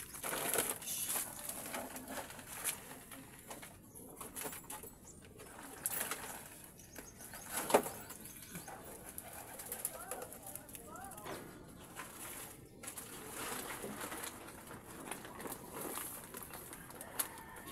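Pigeons in a newly built loft, with soft cooing, scattered wing flaps and bird calls at low level throughout, against a quiet, slightly noisy background.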